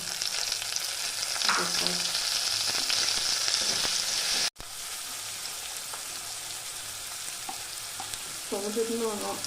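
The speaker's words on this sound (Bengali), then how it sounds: "আদা রসুনটা একটু ভাজা ভাজা হলে তারপর টমেটো কুচি দিলাম" Ginger, garlic and chopped tomato fry in a pan with a steady close sizzle and occasional stirring scrapes, a brief cut midway, and a faint voice near the end.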